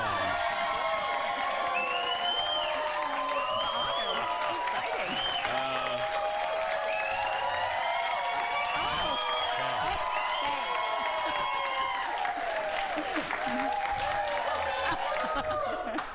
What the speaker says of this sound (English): She got a bigger applause than I did.